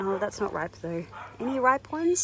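A dog barks and yips nearby in a garden, its short calls mixed in with a person talking throughout.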